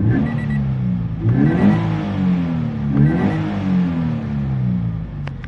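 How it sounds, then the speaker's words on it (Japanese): A manual Toyota 86 with a naturally aspirated engine and about 90,000 km on it, revved hard three times in quick succession, each sharp rise falling back toward idle, loud and close with no talking. "吹かしていきたいと思います。"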